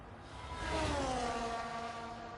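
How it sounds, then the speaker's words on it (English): An F1 car in low fuel mode races past the camera at the Brazilian Grand Prix in the F1 24 video game, its engine note rising then sliding down in pitch as it blasts by. "even when the car's on low fuel mode, it sounds like the car's like blasting by the camera"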